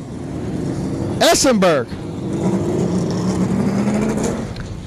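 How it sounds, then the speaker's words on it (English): An IMCA stock car screams past on the front straightaway at a Heart O' Texas dirt track race, a loud rising-then-falling engine roar that dominates briefly, with someone talking over the track ambience before and after. "Essenberg's car sounds like a freaking airplane going down the front straightaway"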